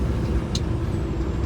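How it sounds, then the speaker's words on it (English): A truck rolls along a woods road in early morning darkness, heard from inside the cab as a steady low engine and road rumble with a brief hiss partway through. "Might sound a little loud because I'm driving with the truck."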